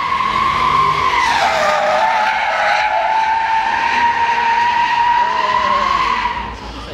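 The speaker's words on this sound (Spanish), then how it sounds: "Jaguar derrapando todo el día" A Jaguar car drifts at Goodwood 2023, its tires skidding in a long, loud, sustained squeal with engine roar, close and continuous before fading slightly at the end.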